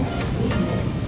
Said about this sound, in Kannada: ಸೊ ಇದು ನಮ್ಮ ಟ್ರೈನ್ ಇದು ಹೋಗೋದು ಸೆಂಟ್ರಲ್ ಸ್ಟಾಪ್ಗೆ ಹೋಗುತ್ತೆ.